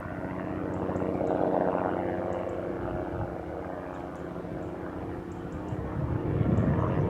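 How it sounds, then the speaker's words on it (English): A helicopter flies over open countryside on Chantry Hill, a steady rotor drone that swells a little as it passes, heard from some distance, with faint birdsong high above it. "It's a shame that damn helicopter's just come into view as well."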